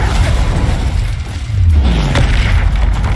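Incendio fire spell cast in the Hogwarts Legacy video game: a loud, close burst with a deep booming rumble that swells midway and holds through the rest, with no talking.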